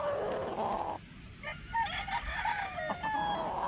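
A rooster, called an iron cock, crows once close by, with a drawn-out, wavering call over faint background noise.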